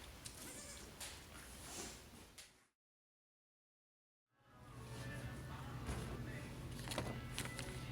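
Baby goats bleat loudly and close by on a family goat farm, with repeated cries before and after a short stretch of silence.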